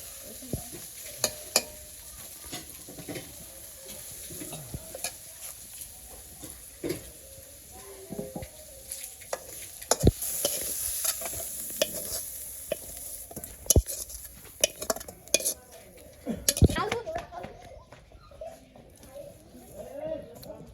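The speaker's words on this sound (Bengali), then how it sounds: "তোমার শাক ভাজা হয়ে গেছে, নামিয়ে নিবো।" Leafy greens frying and being stirred in a pan in a village kitchen, a soft sizzle with scraping spatula strokes, under intermittent nearby talk.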